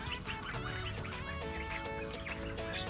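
A flock of ducks quacks and chatters continuously at close range, many overlapping calls with no clear rhythm.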